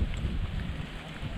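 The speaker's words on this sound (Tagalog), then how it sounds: "Hindi tayo makaporma, napakalakas ng hangin." Strong outdoor wind buffeting the microphone, a low rumbling roar that is steady and close, with no voices.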